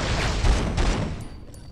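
Gunfire in the 2002 PS2 horror game Run Like Hell, a dense, booming volley of shots rumbling continuously, then thinning and fading toward the end.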